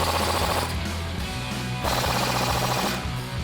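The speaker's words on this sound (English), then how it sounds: "you can throw your impact gun on the other side of that 19mm socket and tighten these down." Impact gun tightening a 19mm socket on a Toyota Tacoma during a front CV axle install: loud, close, rapid hammering rattles in several bursts with brief pauses between them.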